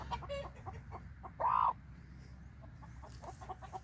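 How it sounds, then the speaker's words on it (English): A hen on an off-grid Australian farm clucks in short, close bursts while her wing feathers are trimmed, with one louder, drawn-out squawk in the middle and soft handling noise around it. "oh no, you're a good chicken. You're a good chicken."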